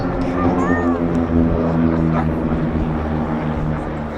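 Royal Danish Air Force T-17 propeller trainers flying in formation at an airshow drone steadily overhead, a loud continuous engine hum with shifting tones and a commentator talking over it.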